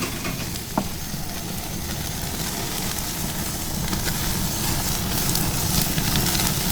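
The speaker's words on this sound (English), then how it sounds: "There's no better sound than fat searing over a fire." Fat from a tomahawk ribeye searing over an open flame on a Kamado Joe grill, a loud, steady, dense sizzle and crackle that holds throughout with a few sharp pops.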